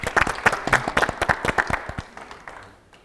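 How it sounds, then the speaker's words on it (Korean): Applause at a Korean seminar on KOSDAQ and KONEX listing rules greets the next presenter, with a loud burst of distinct claps from a modest crowd that thins and fades out over about three seconds. "큰 박수 부탁드립니다."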